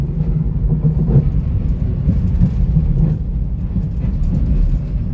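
A Chicago Brown Line elevated train gives a steady, close low rumble with constant loudness and no talk.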